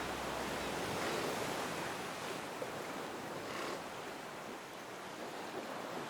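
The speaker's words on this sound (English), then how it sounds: "while waves crash just a short distance away" Ocean surf rolling onto a California beach near a colony of elephant seals, a steady broad wash of breaking waves with a few swells rising and falling, close and loud, no voices.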